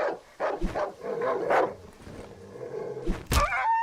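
A dog barks in the survival horror game Darkwood, several sharp barks and yips in quick succession, fairly close, with thuds and game noise mixed in and no talk over it.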